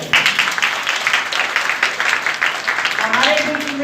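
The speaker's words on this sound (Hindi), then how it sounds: "मैं एक बार फिर से आपसे आग्रह करूंगी कि जोरदार तालियां बजाएं" Audience applause at an International Women's Day gathering, steady dense clapping from a crowd throughout, with a voice starting to speak faintly near the end.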